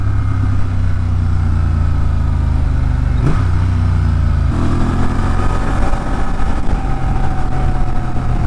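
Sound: motorcycle engine braking

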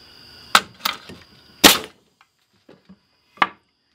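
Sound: air nail gun firing a nail

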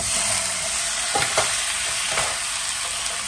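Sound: stirring chopped chicken in a frying pan

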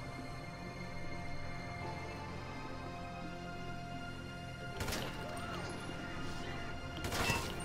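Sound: security cameras shot and smashed in a video game

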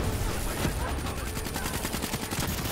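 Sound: gunfire in the video game Black Ops 3

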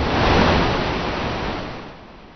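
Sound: surging Beaver River waters

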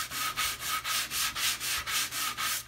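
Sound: sanding wooden boat half hull with sandpaper

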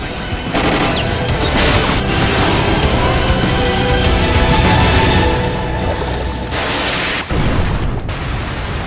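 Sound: steam explosion

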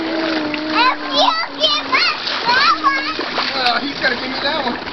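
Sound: child splashing while swimming in water

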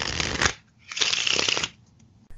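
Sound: shuffling a deck of playing cards

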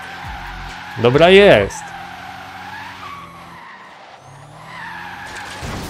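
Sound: Tesla drifting, tires skidding in Forza Horizon 3 video game

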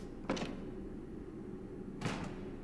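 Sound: footsteps of an animatronic in the video game FNAF Into The Pit

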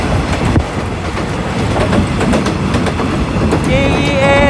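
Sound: GEA 4543 locomotive hauling rapid train 172 through junction

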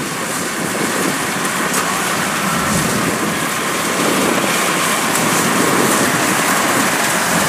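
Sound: heavy rain arriving over a rice field

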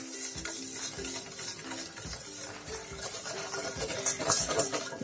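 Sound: stirring butter and powdered sugar by hand

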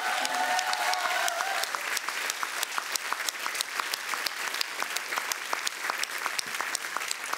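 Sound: audience applause, standing ovation

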